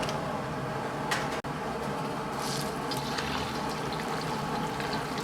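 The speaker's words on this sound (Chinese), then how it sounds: "起锅倒入开水" Boiling water pours into a wok in a continuous gushing, splashing stream, close and steady, with a single sharp knock partway through.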